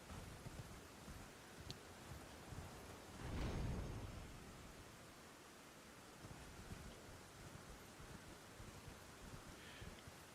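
Rain and a distant roll of thunder in Elden Ring, a faint steady wash of rain noise with one soft rumbling swell partway through, quiet and far off.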